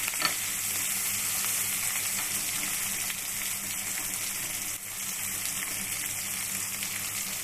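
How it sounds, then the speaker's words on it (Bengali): Chopped onion fries in oil with black cumin and dried chillies, a loud, dense, continuous sizzle heard up close with a faint stirring texture beneath it. "এগুলো ভাজা হয়ে গেলে এবার দেবো পেঁয়াজ কুচি"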